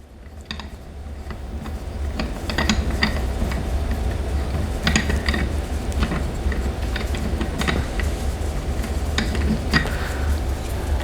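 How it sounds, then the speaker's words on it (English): A draft beer tap handle is worked loose and removed, giving faint scattered metallic clicks and small knocks over a steady low background hum. "prior to cleaning out the lines, you have to take the tap handle off"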